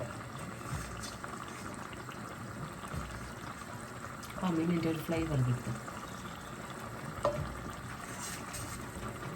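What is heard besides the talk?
fish curry gravy boiling in pan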